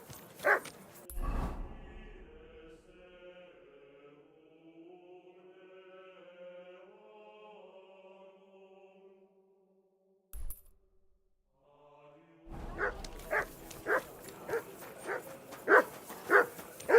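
A dog in the medieval game Kingdom Come: Deliverance 2 gives a couple of short barks and whimpers, then a quiet tonal stretch, followed by a series of rapid yips and barks near the end.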